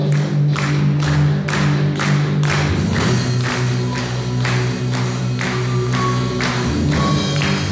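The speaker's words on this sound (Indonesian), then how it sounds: "Yuk berikan tepuk tangan yuk." Church congregation clapping in steady rhythm during a praise song at a Sunday worship service, regular loud claps over sustained music with singing.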